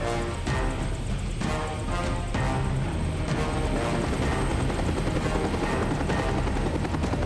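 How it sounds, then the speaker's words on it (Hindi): A helicopter approaches overhead, its steady loud rotor thrum and engine roar filling the scene continuously with no voices. "लगता है कोई हेलीकॉप्टर इधर आ रहा है।"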